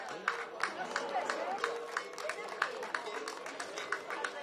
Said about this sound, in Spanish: Venga, ese aplauso a todos los ganaderos.